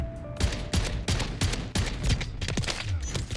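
Semi-automatic fire from a SPAS-12 shotgun in Modern Warfare III sounds as a rapid string of loud, punchy shotgun blasts with brief pauses between them, close and dominant, with no talk.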